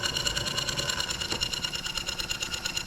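A German showman's steam engine, worn from a rough history, keeps running steadily with its burner off as it winds down, giving a fast, even mechanical chatter and hum with a brief knock partway through and no talk.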